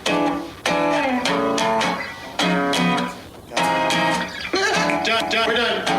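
A song plays loud and steady, a mix of singing voice and instruments with clear melodic phrases and brief dips between lines.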